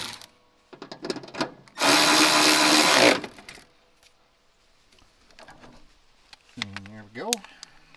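A power tool whirs in one loud burst of about a second as it drives a screw into a Hustler Raptor SD zero-turn mower, surrounded by quieter clicks and handling noises, with a brief voice near the end.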